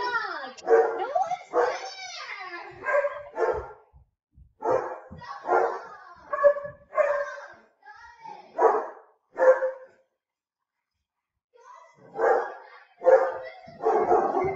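Barking and yipping from a dog in the Minecraft video game, a series of short, close barks and whines repeating with brief gaps. A person's speech also occurs.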